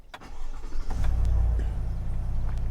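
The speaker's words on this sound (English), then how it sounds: "we'll go ahead and start the vehicle" A 2020 Chevrolet Silverado engine cranks briefly and catches, then settles into a loud, steady idle close by. No one speaks.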